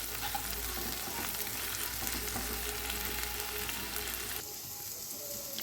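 Ginger paste sautéing in hot oil for a Bengali prawn curry gives a steady, dense sizzle with faint stirring scrapes, then quietens slightly near the end.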